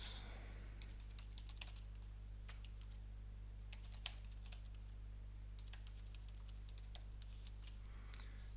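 Fingers type on a computer keyboard entering an email address, with irregular bursts of crisp key clicks close to the microphone over a faint steady hum, and no voices.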